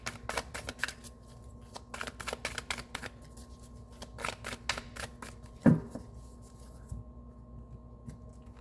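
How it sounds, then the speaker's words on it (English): Tarot cards are shuffled in quick riffling bursts and soft slides, close and quiet, with a brief thump partway through. "Let's give it a good shuffle."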